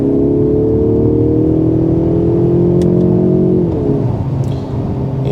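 A 2024 Mercedes-Benz CLE coupé with a nearly 400-horsepower straight-six petrol engine pulls hard at full throttle, a loud, smooth rising drone that climbs steadily before dropping to a lower tone as the throttle lifts.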